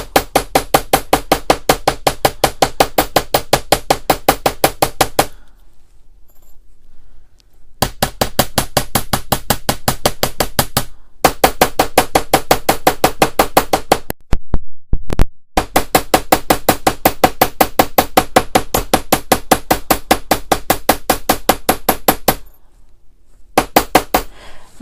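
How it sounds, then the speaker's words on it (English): A hammer strikes the end of a wire again and again to flatten it for a wire frame pendant, sharp rapid metallic taps in long even runs broken by short pauses, close and loud with no speech. "I'm going to hit the end part of my wire so it will splay out flatter"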